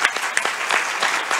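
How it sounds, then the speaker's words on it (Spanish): An audience at a report presentation breaks into brief applause for fellow participants, a steady patter of many hands clapping close by. "le damos un aplauso otra vez a nuestros compañeros"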